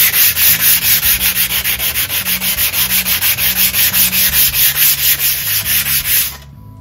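Sandpaper rubbed back and forth across the flat sole of a Darex jointer plane, 120 grit, a loud, steady rhythmic scrubbing of about four strokes per second that stops just before the end.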